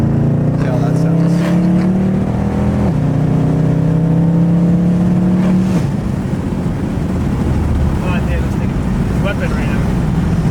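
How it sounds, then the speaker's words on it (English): A Mercedes W204 C63 with a full valved exhaust revs loudly through downshifts, the engine note climbing and falling under heavy wind noise. A person talks over it. "You need a downshift to like 5 or 6. See how that sounds."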